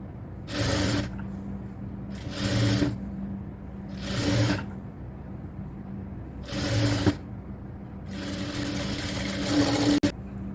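An industrial sewing machine stitching a cotton top sleeve from the shoulder, in repeated loud bursts of fast stitching with short gaps. Close, over a steady background hum with no talking.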